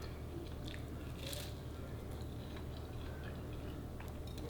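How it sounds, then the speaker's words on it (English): Crisp bites into a homemade sesame ball with a warm filling, giving a faint, close crunch and soft chewing that carries steadily with no talk. "I'm gonna try a bite with the filling on it."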